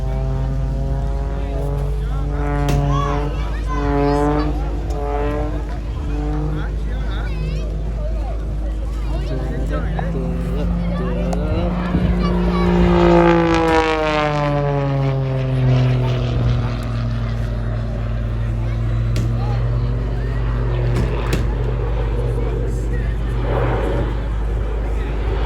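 A display aircraft flown by Rich Goodwin at the Southport Airshow drones steadily overhead, its engine pitch rising and falling in long sweeps as it manoeuvres, with a voice commentating over the continuous roar.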